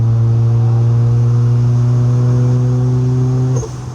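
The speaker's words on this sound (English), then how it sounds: "I've missed turbo spool noises." A car engine with a turbocharger hums steadily while cruising onto a highway, a loud sustained drone with a faint rising whistle, cutting off sharply near the end as the throttle lifts.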